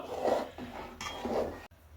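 A pot of rice pudding made with Gobindobhog rice, Amul milk and crushed cardamom is stirred, giving a few soft scraping and clinking strokes of a spoon against metal, close and moderately quiet, with no talking.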